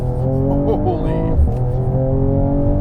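A 2019 Mercedes-AMG E 53 4MATIC+ Coupé accelerates hard from a standstill, its engine note climbing loud and close from inside the cabin with a brief gear-change dip midway.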